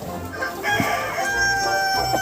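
A crested rooster crows close by in a farmyard, a loud strained call that rises and stretches out over about two seconds, mixed with a few clucks from nearby poultry.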